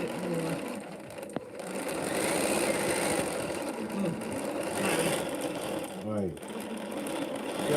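A sewing machine stitches during free-motion quilting, its needle chattering in a steady fast rhythm that pauses briefly, while people talk over it.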